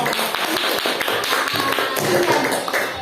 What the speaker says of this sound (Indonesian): Tepuk tangan untuk kelompok kalian sendiri dong